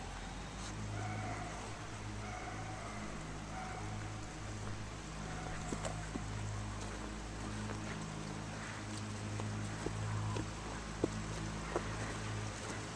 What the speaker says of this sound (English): our neighbor decided to mow